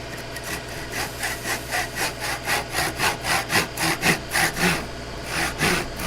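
A hand saw cuts wood for a half lap miter joint in a workshop, giving a steady back-and-forth rasp of about a dozen even strokes that grow louder and quicker, close and alone.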